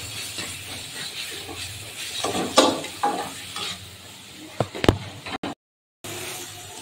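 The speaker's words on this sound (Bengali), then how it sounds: "এবার মশলাটা এবার ভালো করে কষিয়ে নেব" Spice paste and tomato being sautéed in oil for a giant river prawn curry, with a steady sizzle and hiss under scraping stirs that peak in a few loud clatters, then a brief cut to silence.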